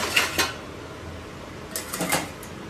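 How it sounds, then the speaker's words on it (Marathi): Roasted sheera being scraped from a pan onto a plate, heard as a few sharp metallic clinks of spoon on cookware near the start and a cluster more near the end, with quiet between. "भाजलेला शिरा ना एका ताटामध्ये काढून घ्यायचा।"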